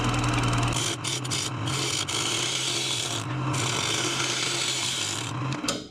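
Woodturning tool cutting a bowl curve on a lathe, a loud, steady scraping rasp of the gouge against spinning wood, close and continuous with slight surges, a low motor hum at the very start.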